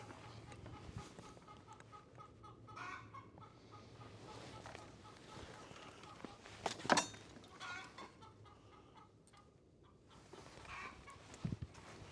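Chickens cluck faintly in the background outdoors, with a few louder squawks and low steady noise throughout.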